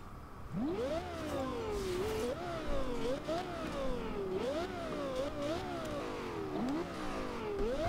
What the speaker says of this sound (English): You can really hear that turbocharger